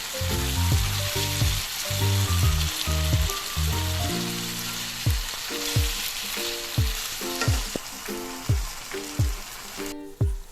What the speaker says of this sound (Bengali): স্টিমটা একটু মিডিয়াম টু হাই রেখে এটাকে কষাতে হবে